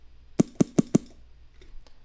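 Hand sanitizer bottle struck with its opening covered, pitched up and high-pass filtered with resonance into a snare sound, four quick sharp taps in a fast even run, then faint scattered ticks.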